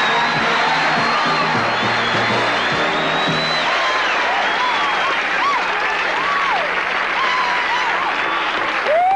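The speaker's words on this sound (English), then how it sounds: "let's get together tonight's round of applause" Applause and some cheering from an audience, with music and sweeping tones playing loudly over it throughout.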